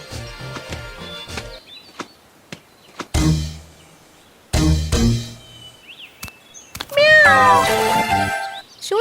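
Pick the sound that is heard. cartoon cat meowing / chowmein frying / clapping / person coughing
cartoon cat meowing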